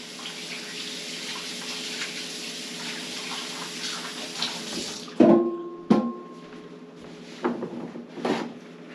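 Tap water runs steadily into a kitchen sink for about five seconds, then cuts off, followed by a few hollow clunks and knocks at the basin.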